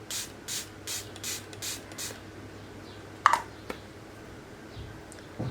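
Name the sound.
spraying makeup setting spray from a twist bottle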